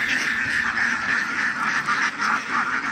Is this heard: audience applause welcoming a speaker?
no